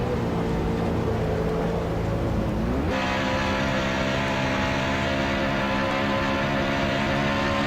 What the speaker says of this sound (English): And what you saw there is Matt Watkins putting the clutch in, coasting the car in the turn, and then popping the clutch back out, getting back on the gas